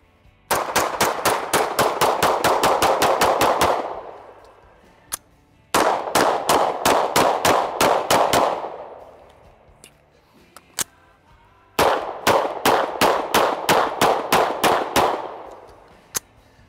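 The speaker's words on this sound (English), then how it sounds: "What I'm gonna do is actually close quarters retention while retreating back to full presentation with the Walther PDP F-Series." A Walther PDP F-Series pistol fires three rapid strings of shots at a target, each burst about a dozen sharp, loud cracks with short pauses and a few single shots between strings.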